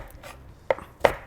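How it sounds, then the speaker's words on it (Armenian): A knife chops meat finely on a board while a dish is being cooked, with two sharp, close strikes spaced about a third of a second apart and near silence around them. "սենց մանր կտրատում ենք ու հետո ավելացում ենք"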